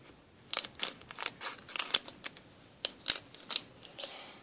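Scissors snip open a small packet of green powder from a Popin' Cookin' mochi soda kit: a series of close, crisp, irregular cuts and crinkles of the wrapper, with short pauses between.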